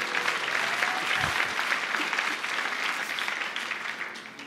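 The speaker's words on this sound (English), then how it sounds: "Yes, let's clap." Church congregation applause during a Sunday service, a full round of many hands clapping that holds steady and then slowly tapers off toward the end.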